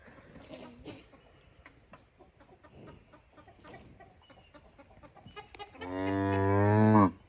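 A loud, drawn-out cow moo near the end, following a stretch of clucking chickens and rustling farmyard noise.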